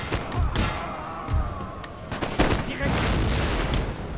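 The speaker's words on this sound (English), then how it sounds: "my howitzer team is trying to shoot his cav" Howitzer artillery firing in a Napoleon: Total War battle against cavalry: several loud, close booms and thuds at irregular intervals over a rumbling battlefield bed with scattered musket shots.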